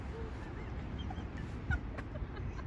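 Ducks honk and quack faintly at a distance over a steady low outdoor rumble in Kyoto, Japan, with a few scattered calls.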